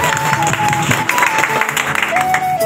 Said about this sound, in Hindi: तालियां प्लीज।